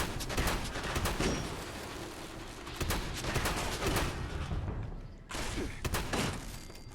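Shotgun blasts in the video game Fallout 76 land as a few sharp, booming bursts spread across a dense wash of in-game combat noise.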